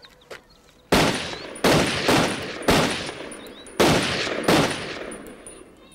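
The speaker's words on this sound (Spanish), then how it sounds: "Me puso unas latas a unos 15 metros de distancia y me dijo que disparara." Gunshots fired at tin cans set about 15 metres away: five loud, sharp reports spaced irregularly, each cracking hard and then ringing off into a long decaying tail, with quiet outdoor ambience in between.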